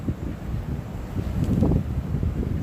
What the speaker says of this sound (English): It is really windy out here this morning